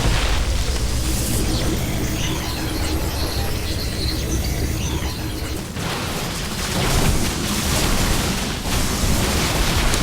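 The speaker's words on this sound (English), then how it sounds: "And this Nexus is being destroyed." Protoss Nexus exploding during a StarCraft II match, with loud dense booming and crashing blasts over continuous battle noise, a brief dip in the middle, then more rumbling destruction.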